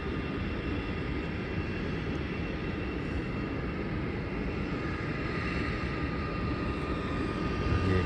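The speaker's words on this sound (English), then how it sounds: "So the flight from the Gold Coast just landed." A passenger airliner arriving from the Gold Coast lands at the airport, its engines a steady, broad roar that holds evenly throughout at moderate distance, with no voices.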